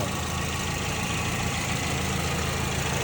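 A 2008 Toyota Vios automatic idles steadily and smoothly, a constant low engine rumble with no revving or change in pitch throughout.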